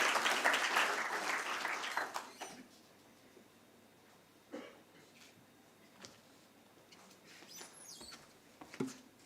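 Audience applause at a company stock-listing ceremony, a burst of clapping that fades after about two seconds, followed by quieter room noise with a few scattered claps and small sounds.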